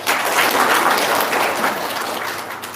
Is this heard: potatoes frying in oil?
no